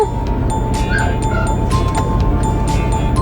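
A dog gives short yips and whiny barks amid a constant loud background rumble, with no talking, at a seaside fish market in Sariaya, Philippines.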